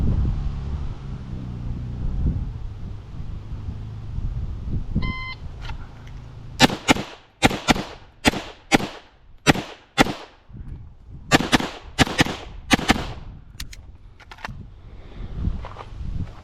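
A Beretta 92 Elite LTT pistol fires with iron sights at roughly ten yards on an outdoor range: a quiet, windy lead-in, then about fifteen sharp, loud shots in quick strings with brief pauses between them.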